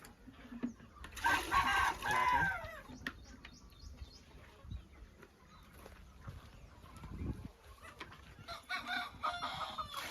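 Country chickens cluck and call inside a farm shed, with a loud burst of squawking near the start and scattered softer clucks and rustling after.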